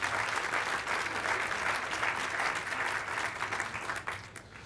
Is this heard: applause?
yes